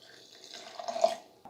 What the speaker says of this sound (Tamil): நம்ம ஊற வச்ச அரிசியோட தண்ணியை எடுத்து ஊற்றி அரைச்சிக்கலாம்